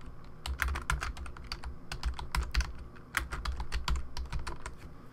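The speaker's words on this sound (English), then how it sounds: "So let's just type in some text." Rapid clicking keystrokes on a computer keyboard come in irregular bursts, close and fairly crisp, with short pauses between runs of typing and no talk.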